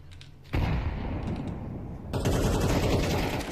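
Heavy gunfire in the Counter-Strike video game, a loud dense burst of rapid shots that drops slightly, then surges louder again and keeps rattling to the end, with no talk.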